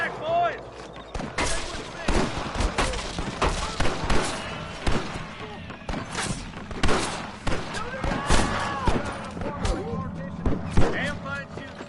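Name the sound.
gunfire in shootout, from video game Red Dead Redemption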